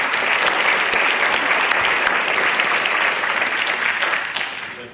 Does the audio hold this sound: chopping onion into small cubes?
no